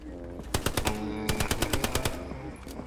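An MP40 submachine gun fires in the video game Hell Let Loose, two rapid bursts of loud, close automatic shots over a steady low background hum.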